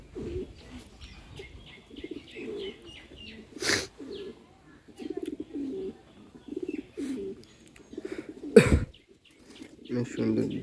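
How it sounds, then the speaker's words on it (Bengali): A black Rajshahi Giribaz pigeon, a male, gives repeated soft low coos in short bursts at close range, with a few brief chirps and wing sounds between them and someone talking quietly at times. "রাজশাহী গিরিবাজ কালোটা কি সুন্দরভাবে ডাকে।"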